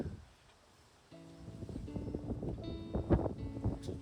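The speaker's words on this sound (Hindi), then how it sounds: "डर लग रहा है पेड़ टूट के ना गिर जाए भाई, इतनी तेज हवा है।" Strong wind gusts roar and buffet the microphone in a steady, loud rush, with rustling and clattering mixed in as the blowing builds.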